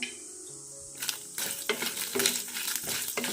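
Chana dal and green chillies roasting in hot oil in a pan, stirred with a spoon: a quiet start, then close scraping and a steady sizzle with repeated stirring strokes.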